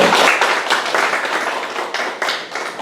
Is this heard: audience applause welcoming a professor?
yes